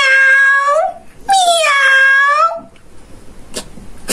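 A person mimics a cat, giving two drawn-out, whiny meows one after another, the second longer, followed by brief faint clicks and quiet background.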